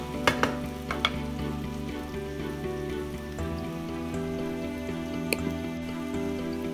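Four small chopped tomatoes cooking in a pan, a steady soft sizzle with a few early spoon taps and a steady hum running underneath, close and continuous, no voices.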